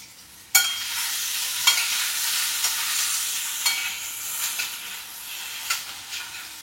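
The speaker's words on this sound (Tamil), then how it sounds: "வாழைக்காயை போட்டாச்சா சிம்மில் வச்சுட்டு கலரணும்" Raw banana pieces fry gently over a low flame in a pan with mustard seeds and curry leaves, giving a soft continuous sizzle broken by sharp spoon clinks as they are stirred.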